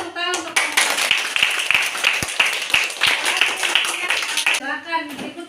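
A class of trainee teachers gives a group a lively round of hand clapping during a teacher-training session; dense, steady claps fill several seconds, with brief voices before and after.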